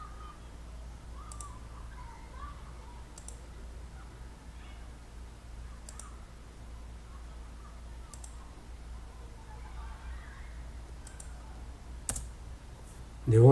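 Faint, sparse mouse clicks in a CAD program, spaced a couple of seconds apart over a quiet background hum.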